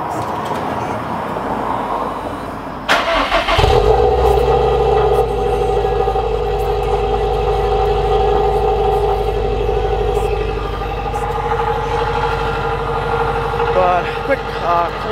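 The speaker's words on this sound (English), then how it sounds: "Cold start for you guys." A car engine cold-starts with a sharp crank and catch, then settles into a loud, steady, raspy, tinny idle close by that runs on without a break.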